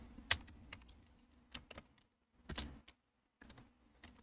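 Close keystrokes on a computer keyboard as a search term is entered into a database query's criteria row, coming in short irregular bursts of clicks with brief pauses and no talking.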